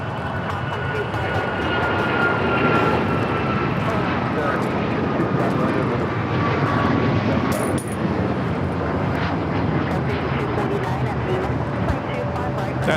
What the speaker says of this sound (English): That is Alaska Airlines 1398 taking off to Mazatlan on the MAX 9